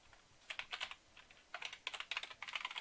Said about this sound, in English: I can hear me typing really well.